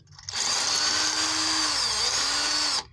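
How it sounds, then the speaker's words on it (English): A power drill bores sand out during a water tank installation, a close, steady high whine that starts abruptly, holds with a slight dip in pitch, and stops sharply. "let's just drill out some sand"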